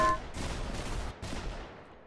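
Gunfire in the video game Arsenal comes as a few loud, close bursts of shots, each blending into a dense rattle that fades over about two seconds, with no talk.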